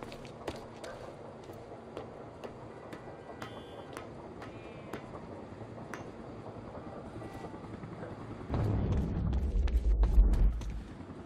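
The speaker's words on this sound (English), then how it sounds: "Better get inside before the chopper spots me." Helicopter in the video game Quantum Break, a low rumbling rotor drone that swells louder toward the end as it passes overhead, mixed with footsteps and small in-game mechanical sounds, no talking.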